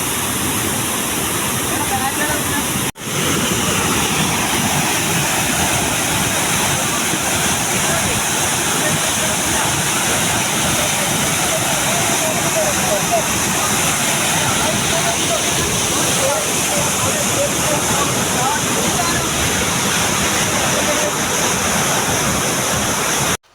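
Pulikode waterfall in Kasaragod, Kerala, pours down in a steady, loud, broadband roar that fills the whole stretch without pause, with only a brief dip near the start.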